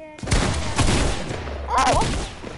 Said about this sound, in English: I shoot my burst.